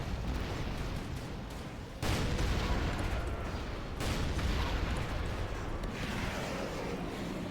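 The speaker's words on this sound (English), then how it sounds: "Where are the explosion sounds taken from?" Explosions and heavy weapon fire in Command & Conquer rumble as a dense, loud barrage, with two sharp blasts standing out, and no talk.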